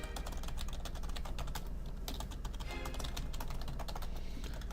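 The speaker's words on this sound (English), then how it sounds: "what is up with my typing today?" Fast, steady clicking of a computer keyboard being typed on, close and continuous throughout, with no talking.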